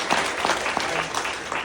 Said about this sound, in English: Yes, go ahead and applaud.